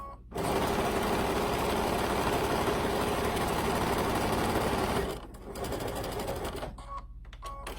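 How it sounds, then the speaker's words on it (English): A sewing machine stitches a full quilt strip, running loud and steady with a fast rhythmic hum for about five seconds, then slowing and pausing briefly before short bursts of stitching. "I'm just going to sew my entire strip"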